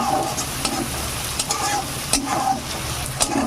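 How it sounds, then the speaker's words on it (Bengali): Onions frying in fish oil in a pan for a rohu fish curry, a loud, dense, continuous sizzle close by, broken by brisk stirring scrapes and a few sharp clicks, with no talking. "এবার পেঁয়াজের সঙ্গে খুব সুন্দরভাবে মাছের তেলটা ভাজা হয়ে যাবে"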